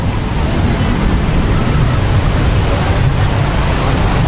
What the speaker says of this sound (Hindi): भयंकर वाला बारिश भाई, भयंकर।